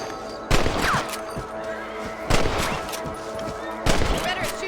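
Rifle shots at rabbits in Red Dead Redemption, three sharp loud cracks spaced about two seconds apart, each ringing out over an outdoor ambience with a horse whinny and a voice in between.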